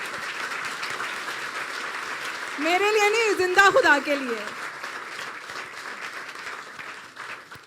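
Steady applause rises from a church congregation during a sermon, with a preacher's voice speaking over it in the middle.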